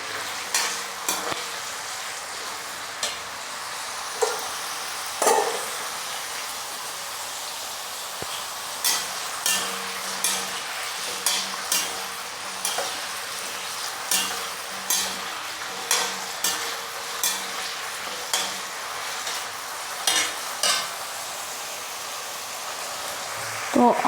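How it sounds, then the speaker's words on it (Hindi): Potato pieces frying in hot oil in a pan, with a steady sizzle and regular scraping strokes of a stirring spoon recurring every second or so, close and continuous. "तो आलू को हमने 1 मिनट के लिए फ्राई कर लिया है"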